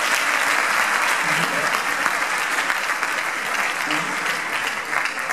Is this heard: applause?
yes